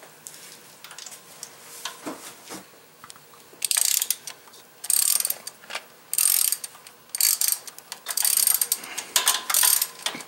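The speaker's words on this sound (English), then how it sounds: "Next, remove all the bolts that are on both sides of the manifold." A ratchet loosens intake manifold bolts on an LT1 engine in a Firebird Trans Am, close, rapid clicking bursts in repeated runs with short pauses between them.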